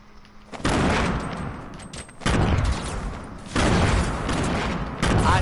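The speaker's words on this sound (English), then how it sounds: "I'm throwing grenades." Bursts of video game gunfire and grenade blasts at close range, with three loud broadband surges around two, three and five seconds over a continuous layer of shooting.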